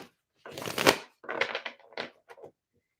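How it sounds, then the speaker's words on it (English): A deck of tarot cards is shuffled by hand, giving several quick papery riffles and slaps in uneven bursts, close and fairly loud, with no voices. "Let me do some more shuffling for you."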